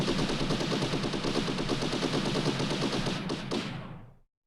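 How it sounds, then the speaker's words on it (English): A gunshot sound effect plays as rapid automatic machine-gun fire, a dense unbroken rattle of shots for about four seconds before cutting off abruptly into silence. "How about we do gunshot?"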